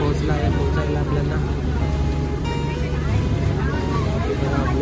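A boat engine drones steadily on the crossing to Elephanta island near Mumbai, with an even, unbroken rumble and wash of water and wind noise.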